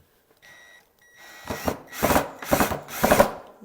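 A power drill whines briefly, then several grinding bursts of a drill driving into pre-drilled holes in a wooden frame follow in quick succession, close by.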